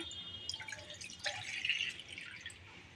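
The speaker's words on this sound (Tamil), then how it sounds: "இப்போ பேனில் தண்ணி ஊற்றிடலாம்" A thin stream of water pours and trickles into a pan, with splashy dripping sounds that rise and fade over a few seconds, close by, while cooking vermicelli.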